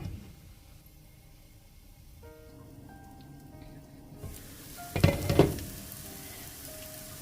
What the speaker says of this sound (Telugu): ఫ్రై అయ్యి ఆయిల్ పైన తేలే వరకు ఈ మేతి కూరను కూడా ఫ్రై చేసుకోవాలి.